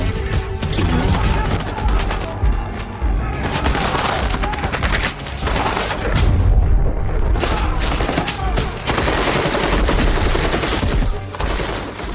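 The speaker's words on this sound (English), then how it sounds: "Private Billy Reddy fires a warning shot" Heavy, continuous gunfire and explosive booms from a war reenactment of the 1961 siege of Jadotville, Congo, with machine-gun bursts and crashes filling the whole stretch loudly and densely.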